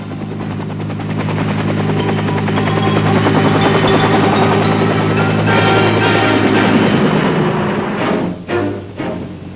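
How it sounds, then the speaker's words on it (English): A Vietnam War medical evacuation helicopter, its rotor and engine roaring loud and close in a steady throbbing drone that shifts slightly near the end. "Dust-Off is the affectionate code name for the medical evacuation helicopters, and they perform miracles in getting in and out of almost impossible spots"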